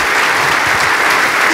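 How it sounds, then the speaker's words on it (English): Audience at a Holocaust survivor speaker event applauding, a loud, dense, continuous round of clapping from a full room filling the short moment. "Another round of applause real quick for these women."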